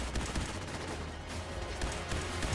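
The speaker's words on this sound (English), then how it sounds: "I'm shooting the wrong robot" Dense, continuous automatic gunfire from a fight against robots in the Fallout 4 Automatron game, a loud rapid rattle with no pauses over a steady game background.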